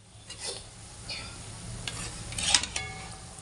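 Balushahi sweets fry quietly in a pan while they are turned over, giving a low sizzling hiss with a few light scrapes and metallic clinks of a utensil against the pan.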